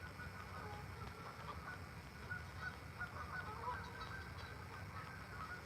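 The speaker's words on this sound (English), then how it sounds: "Those are geese of the Canadian variety." Canada geese honk repeatedly at a distance, a faint continuous chorus of calls over low outdoor rumble at a lakeside fishing spot.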